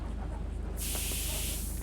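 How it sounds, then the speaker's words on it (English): Pepper spray discharged during a law enforcement less-than-lethal training walkthrough for removing a person from a car: a sudden loud, steady hissing burst starts partway in and continues to the end. "If you'd spray me with the pepper spray, please."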